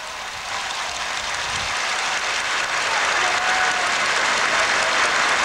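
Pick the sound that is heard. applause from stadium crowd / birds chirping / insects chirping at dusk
applause from stadium crowd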